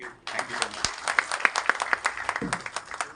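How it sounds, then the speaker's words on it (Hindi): At a film trailer launch event, an audience breaks into applause, with distinct individual claps standing out sharply near the front over a busier crowd clapping behind. "एक बार जोरदार ताली होनी चाहिए।"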